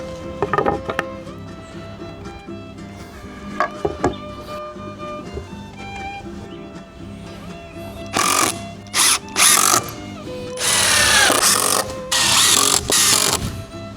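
A power drill drives galvanized screws into wood for an outdoor kitchen build: scattered knocks and handling at first, then several short whirring bursts and two longer drill runs, close and loud, with no speech.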